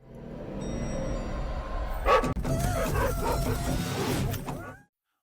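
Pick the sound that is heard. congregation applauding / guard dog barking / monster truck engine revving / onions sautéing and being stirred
guard dog barking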